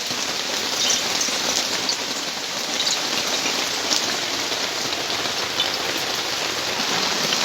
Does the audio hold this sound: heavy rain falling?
yes